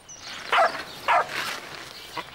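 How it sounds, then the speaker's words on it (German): A dog barks twice in quick succession, then gives a softer yip, fairly close with a quiet background. "Hey, was ist das für ein Hund?"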